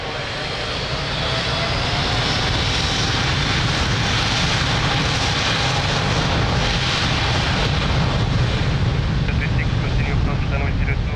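An Airbus A330 jet departing from runway 02 at Lisbon Airport, a loud, sustained engine roar rising slightly and holding strong throughout.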